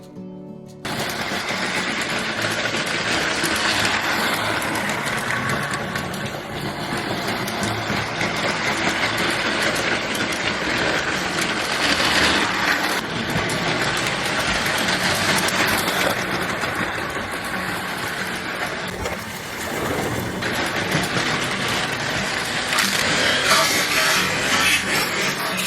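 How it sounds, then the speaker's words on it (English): A vintage 1978 Lionel MPC toy train set runs continuously, its small motor whirring and wheels clattering on the track in a steady, close mechanical hum that rises and dips as it circles. "let's have some fun and watch this train in action"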